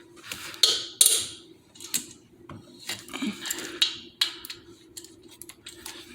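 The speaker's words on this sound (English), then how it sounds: "with a 12-point socket and a long wrench or even like a breaker bar, go ahead and crack these head bolts loose." A ratchet with a 12-point socket works Harley-Davidson head bolts loose, giving close, sharp clicking bursts and metallic ticks in irregular spurts with short pauses between pulls.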